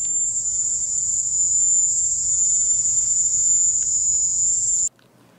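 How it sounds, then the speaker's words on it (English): Caribbean crickets of the kind found in Cuba trill in a steady, unbroken high-pitched mating chorus that stays loud and even throughout, then stops abruptly near the end. "the mating sounds that crickets make, who are commonly found in the Caribbean, in places like Cuba"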